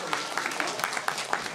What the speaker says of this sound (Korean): 박수 부탁드립니다.